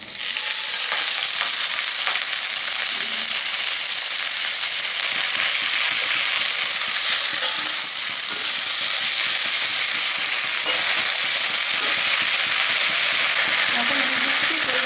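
Spiny gourd leaves sizzle and crackle in a hot pan while being stirred, a loud, steady frying hiss with small scraping stirs running throughout without a break.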